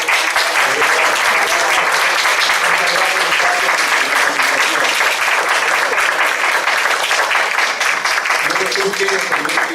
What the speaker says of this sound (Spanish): démosle un aplauso al ensamble de cuerdas que está por ahí